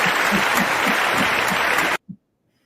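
A dense burst of loud, steady applause fills about two seconds, then cuts off abruptly to near silence with one short thump.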